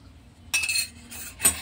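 A spoon stirs milk powder and sugar into milk in a metal pan while making shahi tukda, giving light scraping clinks that start after a quiet moment and end with a sharper clink.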